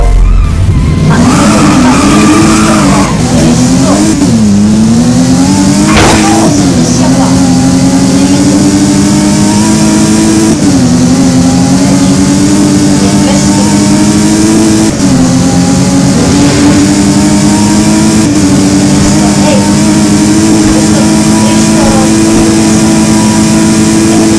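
A Tesla in the video game Driving Empire accelerates repeatedly, its loud synthetic engine tone rising in pitch through several shifts over about 24 seconds, steady and close with no talking.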